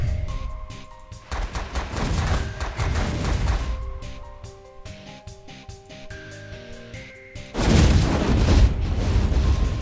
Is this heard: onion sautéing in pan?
no